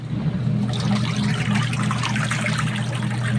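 A loud, steady churning whir of a washing machine spinning, with water rushing inside over a constant low motor hum, close by.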